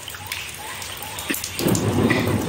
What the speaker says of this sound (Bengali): যা আকাশ ডাকছে